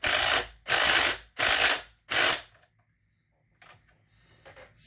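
A ratchet turning bolts on a McCulloch 790 chainsaw, with four loud, close, evenly spaced bursts of rapid clicking, then near silence with a few faint metallic touches.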